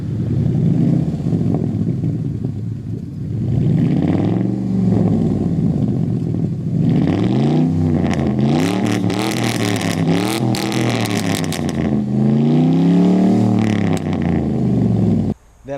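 A gasoline pickup truck with no catalytic converters and an X-pipe with glass pack mufflers revs hard again and again, its exhaust rising and falling in loud, close, raspy swells with some clatter.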